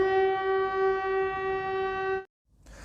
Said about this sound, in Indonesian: dia mendengar sirine panjang